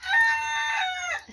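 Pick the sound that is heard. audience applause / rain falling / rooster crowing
rooster crowing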